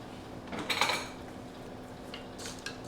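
Food stirred in a pot while cooking, with a couple of quiet scraping, clattering bursts of a utensil against metal, the louder one early and a softer one near the end.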